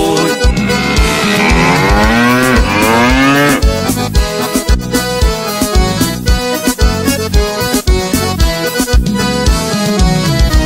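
Loud cattle moos sound within a forró song, long bellowing calls sliding in pitch at the start before the full band with driving rhythm takes over.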